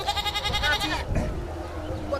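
A goat bleating in a rural Maithili village comedy skit, a loud wavering bleat up close, followed by a brief rustle and muffled background noise.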